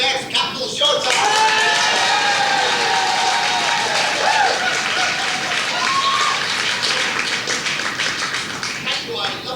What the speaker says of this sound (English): clapping and cheering for the start of Ken Theft Capital Showtime